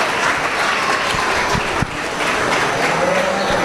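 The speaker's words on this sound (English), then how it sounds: "let's give them a round of applause" Steady applause from a crowd at a youth beef cattle showmanship event, continuous clapping in a large open space, with faint livestock sounds in the background.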